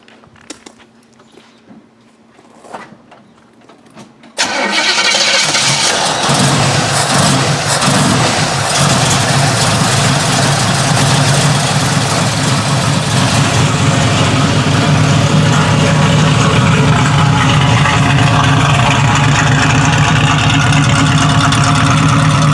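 A 1967 Chevrolet Camaro engine cranks and catches after a few quiet seconds, then settles into a loud, steady idle with a deep, continuous rumble that fills the rest of the recording.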